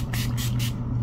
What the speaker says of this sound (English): I am kind of brain dead with the setting spray